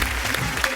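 Studio audience applause on a Hindi comedy show, a brief burst of dense clapping from a crowd.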